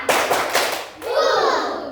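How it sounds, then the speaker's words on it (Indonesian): A class of fifth-grade children clap in a patterned rhythm, a few sharp group claps followed by chanting voices of kids close by. "Tepuk satu, dua, tiga."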